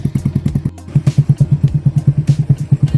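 A Grom clone motorcycle engine idles low and steady up close, its single-cylinder thumps pulsing in an even, rapid rhythm with a brief stumble partway through.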